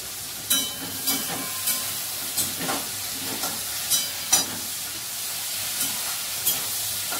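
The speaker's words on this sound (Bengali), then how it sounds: "এই যে ভেন্ডিটা ভাজা করছে" Okra (bhindi) fries in a pan under a constant bright hiss of hot oil. Soft stirring clicks and scrapes land about once a second, fairly faint, with no voices.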